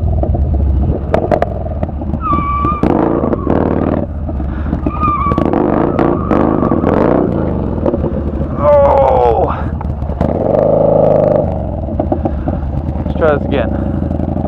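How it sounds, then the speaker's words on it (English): Yamaha Bolt motorcycle being ridden and stunted in hot weather, engine revving and surging with tire skids and wind buffeting, loud and close, with a rider's voice shouting over it. "Let's get on the bike and do some stunting."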